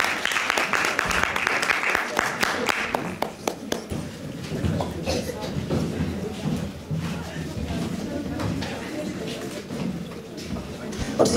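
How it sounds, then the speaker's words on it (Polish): An audience at a patriotic song festival applauds, with scattered sharp claps early that thin out as a voice talks over a murmuring crowd for most of the stretch. "Wielkie brawa dla pana"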